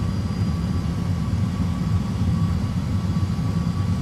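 Airbus A320 jet engines roar steadily during a crosswind take-off roll, heard from inside the aircraft as a constant, heavy low rumble with a faint whine above it.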